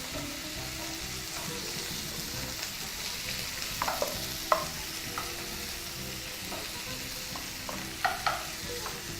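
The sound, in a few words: beef searing in a pan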